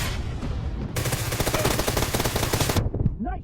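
A Groza assault rifle fires unsuppressed in PUBG Mobile, a sharp burst opening into a dense, rapid automatic volley lasting about two seconds, loud and close, before cutting off abruptly.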